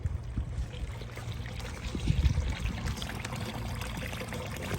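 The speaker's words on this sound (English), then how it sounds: "And as long as that is draining, that is a good sign." Water drains steadily from a freshly unclogged kitchen sink, a continuous near pouring and trickling gurgle with no talk over it.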